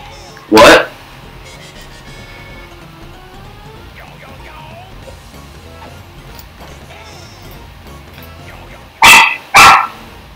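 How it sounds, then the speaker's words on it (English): A pet dog barks close by in a home: one sharp bark near the start, then a quick pair of barks near the end, with quiet background sound between. "Sorry about my dog."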